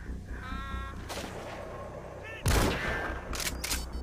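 One sharp, loud gunshot in Metal Gear Solid V: The Phantom Pain cracks out over steady in-game ambience, with fainter shots and rattles after it.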